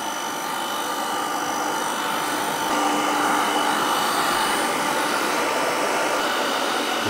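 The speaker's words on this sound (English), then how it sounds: "drop these curls in to the diffuser" A hair dryer fitted with a diffuser blows steadily on a head of curls, making a loud, close, continuous whooshing roar that swells slightly partway through.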